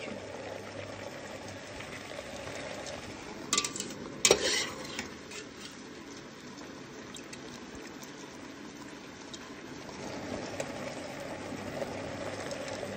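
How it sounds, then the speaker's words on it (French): A spoon stirring marinated onions and carrots in a pot, soft scraping and shuffling with a brief clatter of utensils against the pot partway through. "Là on mélange bien."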